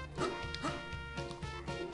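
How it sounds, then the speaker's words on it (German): Dogs bark outside, a quick run of several faint, distant barks in uneven rhythm, heard against a soft background of game music. "Oh, und draußen bellen so eine Hunde."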